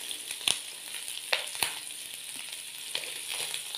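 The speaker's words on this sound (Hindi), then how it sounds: "तकरीबन 4 से 5 मिनट लगे हैं हम इनको फ्राई करते हुए" Mutton pieces fry in a pan of hot oil after several minutes of cooking, giving a steady, quiet sizzle close by, broken by a few sharp pops and crackles.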